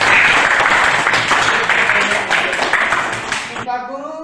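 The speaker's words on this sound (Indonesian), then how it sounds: "Ya, tepuk tangan." Students clapping in a classroom, a dense burst of applause close by that fades slightly, followed by a brief spoken voice at the end.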